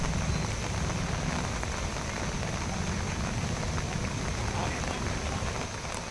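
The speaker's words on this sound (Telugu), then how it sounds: "పశ్చిమ గోదావరి జిల్లా నరసాపురంలో ఎడతెరిపిలేని వానలు కురుస్తున్నాయి" Heavy, unrelenting rain pours down in Narasapuram, West Godavari, a dense, steady hiss of downpour on surfaces that stays loud and uniform from start to finish.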